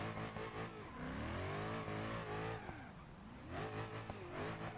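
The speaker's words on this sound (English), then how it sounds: "Let's just bring out a generic drift car." A drifting car's engine in the video game BeamNG revs and falls in sweeping pitch glides while tires squeal steadily underneath, loud and continuous throughout.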